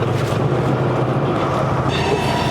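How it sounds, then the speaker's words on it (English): A train rumbles steadily past near a truck yard, a continuous broad rolling roar of wheels on rails at moderate distance, with no voices. "just as the train's coming around the bend, so you might hear him honk his horn"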